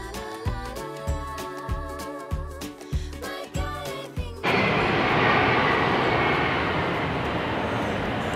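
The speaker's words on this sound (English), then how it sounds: "We're having an air show today, and four F-16s, I think, just flew by." Four F-16 fighter jets pass over an air show, arriving as a sudden loud, broad roar about halfway through that holds steady to the end, following a stretch of tonal, musical-sounding sound.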